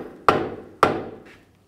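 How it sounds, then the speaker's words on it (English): Two sharp, loud strikes of a dead blow hammer seat a front CV axle on a 2011-2015 Chevy Cruze, spaced about half a second apart, each ringing briefly before decaying, with a faint third tap at the end. "Take a hammer, a dead blow hammer or a rubber mallet, just tap this back in place."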